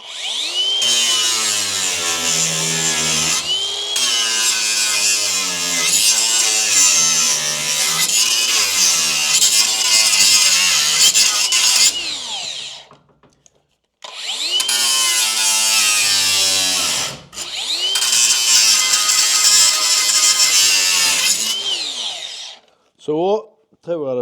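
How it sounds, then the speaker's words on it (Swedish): An angle grinder cuts away a stubborn rivet on a horse trailer under renovation: a loud, close whine that rises and falls in pitch, running in two long bursts split by a brief pause, then a short final spurt. "Jag har en nit kvar här uppe, så jag ska få slipa bort för det går inte att borra bort den."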